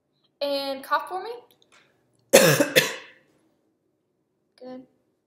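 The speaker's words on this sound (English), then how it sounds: "And cough for me." Talk at the start, then a sharp double cough nearby on request during an oral motor examination, followed by a brief short voiced sound.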